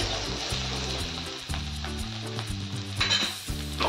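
Turmeric and salt sautéing in a frying pan, a close, continuous sizzle with stirring scrapes and a low rhythmic pattern under it, and no speech.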